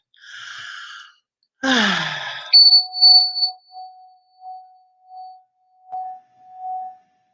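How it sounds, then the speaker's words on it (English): Someone takes a big breath through a wide-open mouth in a quiet room: a soft airy breath, then a louder rushing intake, followed by a sequence of clear, sustained ringing tones that fade one after another. "Open your mouth really big and take a big breath."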